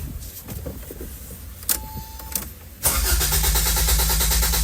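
A 1985 Toyota MR2 under restoration cranks but fails to start. A few faint clicks and clunks come first, then a sudden loud, rhythmic cranking churn runs to the end, close and with no talk.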